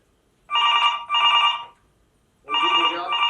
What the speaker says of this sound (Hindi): अरे उठाइए तो सही, किसका फोन होगा इतनी रात को?